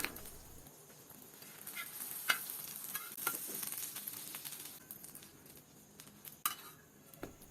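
Pav buns frying in butter on a hot pan, a steady close sizzle with frequent stirring and scraping clinks of a utensil against metal, no voices.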